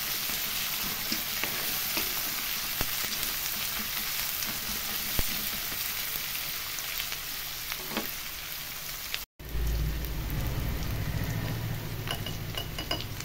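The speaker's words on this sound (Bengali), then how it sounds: "এগুলো ভালো করে বেরেস্তার মতো ভেজে নেব সুন্দর করে" Sliced onions fry in hot oil until golden for a masoor dal soup, making a steady, close, crackling sizzle with occasional stirring clicks. A brief dropout cuts in partway through before the sizzle resumes, slightly fuller and heavier.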